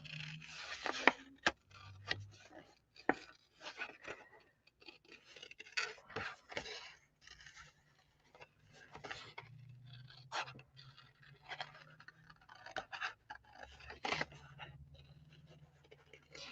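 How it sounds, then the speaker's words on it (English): Fussy cutting paper with large scissors for a craft project, a sequence of close, irregular snips and scraping cuts with short pauses between them, no talk. "And I should be using smaller scissors,"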